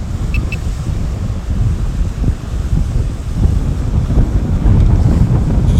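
A boat engine drones past close by, half buried under heavy wind buffeting the microphone, with water and surf noise throughout.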